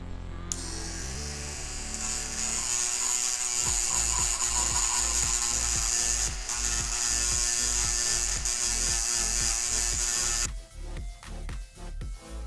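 A Proxxon rotary sanding tool whines steadily as it grinds support marks off a printed part, with a high motor hum and rhythmic scraping pulses as it presses against the surface, stopping near the end.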